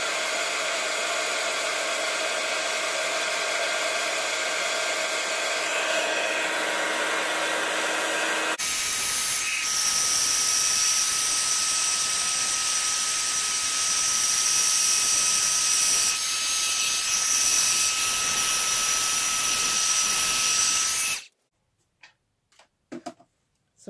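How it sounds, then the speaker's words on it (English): A heat tool blows hot air to heat set a handmade Christmas card, a loud, steady whooshing roar up close that shifts pitch partway through, then cuts off abruptly, followed by a few faint clicks. "And now I'm going to heat set this with my heat tool."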